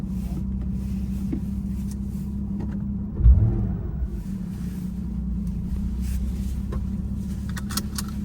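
A Porsche 911 drives on roads in Southern Maine, its engine a steady low rumble heard from inside the cabin throughout, with a brief louder thump partway through and faint clicks and ticks over the drone.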